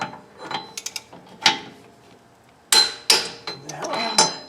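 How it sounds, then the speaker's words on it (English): A torque wrench tightening lug bolts on a front-wheel-drive Toyota's rear wheel bearing hub, giving a string of sharp metallic clicks and clanks with brief ratcheting bursts, close and fairly loud against quiet gaps. "so now we torque them to 60 foot-pounds"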